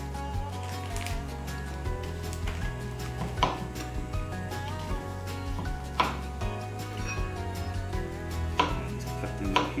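Vegetables, including onion, chopped into pieces on a Blackstone griddle setup for hibachi, with scattered knife knocks and taps over a steady low hum; no voices.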